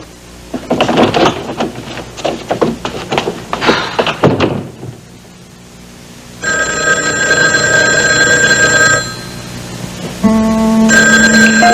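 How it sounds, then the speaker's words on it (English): A telephone call being placed: several loud close clunks and clatters of handling, then a steady electronic ringing tone that breaks off and resumes, with no talking. "Just let me dial, all right? I'm going to dial for it real quick."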